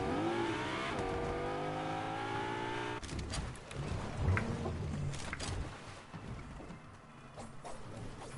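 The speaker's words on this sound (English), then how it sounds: "2 cars." Two cars drive past one after another, the first a rising, revving engine note, the second a rougher rush of engine and tire noise, heard moderately close with no talk.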